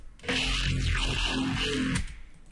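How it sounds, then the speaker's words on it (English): A resonant, screamy dubstep synth bass made in Ableton Live sweeps and wails for about two seconds, bright and cutting, then cuts off. "we've got a more sort of resonant, screamy one here."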